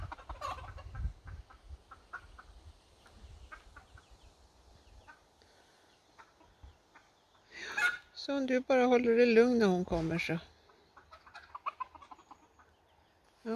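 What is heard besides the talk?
hens clucking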